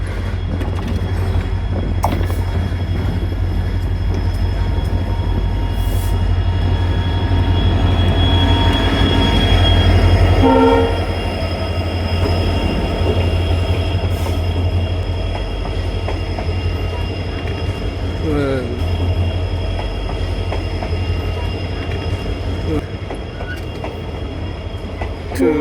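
The Vasco da Gama to Belagavi biweekly passenger train pulls into platform three at Belgaum station with a loud, continuous rolling rumble, metallic wheel squeals and rhythmic clatter as the carriages pass close by.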